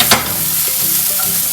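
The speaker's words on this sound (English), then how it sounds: "So cook on a nice non-stick pan with the rama olive oil, nice high heat. We sweat down the onions." Onions sweat in olive oil over high heat in a non-stick pan, giving a loud, close, steady sizzle with a brief stirring scrape near the start.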